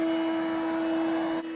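A Coral One 2-in-1 robot vacuum running with a steady, loud motor whine and constant airy suction hum, unbroken until a slight drop near the end.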